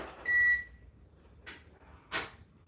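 A kitchen timer gives one short, clear electronic beep near the start while chicken and corn are cooking, followed by two soft noisy rustles in a quiet room.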